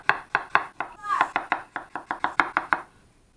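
A knife chops apples for crockpot applesauce on a cutting board in a steady, close run of about sixteen crisp strikes that fade out at the end.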